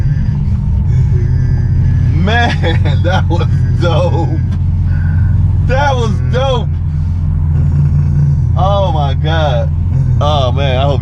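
A Lamborghini Aventador's engine roars through a launch-control start, a steady loud rumble that never lets up while excited voices shout and talk over it.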